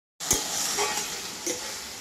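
Spices frying in a pan over a charcoal fire before goat meat goes in, a steady close sizzle with a couple of brief stirring scrapes and no voice.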